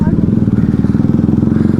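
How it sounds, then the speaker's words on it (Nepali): A motorcycle ridden slowly, its engine putting out a steady, close, low rhythmic pulse that holds evenly from start to finish. "मैले बाइक बिस्तारै कुदाइरहेको छु"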